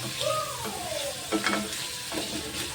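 Paneer gravy masala frying in a pan on low flame while being stirred, a steady close sizzle with scraping spoon strokes and a few louder stirring bursts, no talking.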